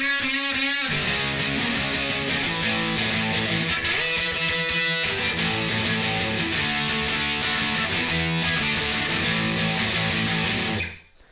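Distorted electric guitar rhythm parts from a song play continuously for about eleven seconds, a dense, loud, driving strum with no voices, cutting off abruptly at the end.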